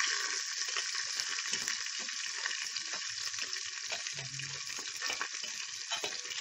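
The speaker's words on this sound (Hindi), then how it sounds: "प्याज डाल दी हमने, प्याज को भी फ्राई कर लेंगे" Onion frying in a pan for vegetable rice, a soft, even crackling sizzle with faint stirring bumps throughout, fairly quiet and close.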